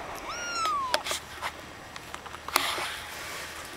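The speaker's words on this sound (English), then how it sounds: "Meow." A kitten meows once with a rising, drawn-out cry, close and clear, followed by soft rustling and a few light clicks in a quiet room.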